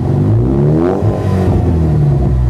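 A 2020 Ford Mustang EcoBoost rated at 310 horsepower revs up with a loud, close engine note that climbs in pitch and then settles, steady and dominant throughout, with no talking.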